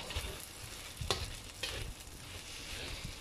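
Sambal paste stir-frying in a pan with eggs for kuey teow goreng, a steady sizzle and crackle with a few louder scraping stirs of the spatula, close and continuous.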